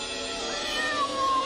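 A cat meows in a long, drawn-out cry, close and fairly clear over a steady background hum, with no talking.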